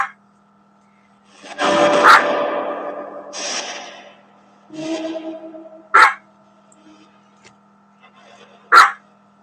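A dog barks several times at close range. Two longer vocal stretches are followed by short, sharp barks spaced a few seconds apart, each ringing with a slight echo in a quiet room with a faint steady hum.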